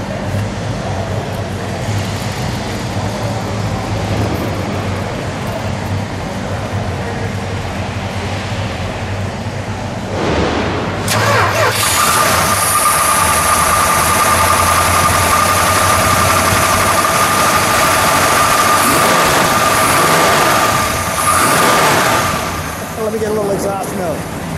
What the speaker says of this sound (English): We must start our Hemi.